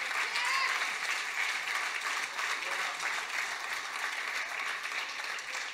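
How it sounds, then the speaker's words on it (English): A church congregation applauds in a steady, dense wash of hand claps that lasts the whole stretch, heard from a distance and fairly quiet, with no talk over it. "go ahead and give the Lord a hand clap of praise right now."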